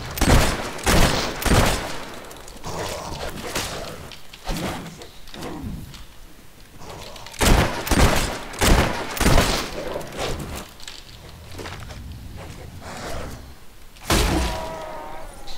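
Revolver gunfire in the Fable 3 video game. Loud, sharp shots come in irregular clusters with quieter game noise between them, and no voices are heard.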